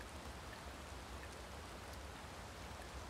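Rain in the video game Dragon's Dogma 2 falls as a steady, quiet hiss of broadband noise with no breaks and no speech.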